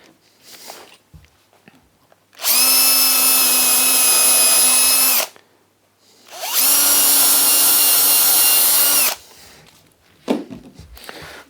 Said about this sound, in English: So we're drilling both ends.